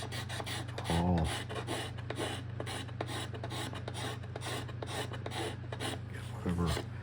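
Wooden chair being smoothed with a hand scraper, a string of quick rasping strokes in steady rhythm, close and moderately loud, with a low constant hum underneath and no talking.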